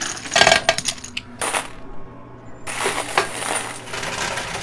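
Quarters clatter and clink as they drop into a high-stakes coin pusher arcade machine, a dense burst of metallic jingling followed by a brief lull and then more scattered coin rattles, fairly close.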